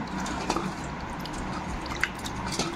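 Grapes being washed by hand in cold salted water, with soft sloshing, squishing and a few small drips close by, steady and unbroken by speech.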